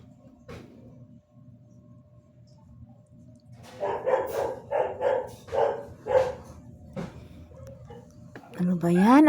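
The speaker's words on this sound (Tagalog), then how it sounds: "Ang aso ng aking mga kapitbahay." A neighbour's dog barks in a run of about seven rhythmic woofs over a low background hum, moderately close, ending in a high whine.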